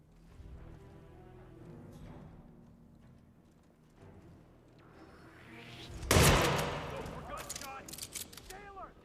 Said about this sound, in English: That was just one gunshot